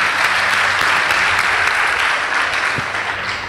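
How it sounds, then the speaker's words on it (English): Dense, loud audience applause at a secondary school debate competition on stage, a steady wash of clapping that tapers slightly toward the end. "Please give them a round of applause."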